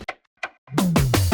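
A short drum fill in a melodic drum and bass track: a few sharp, sparse hits followed by a burst of loud, dense drum strikes, close and punchy.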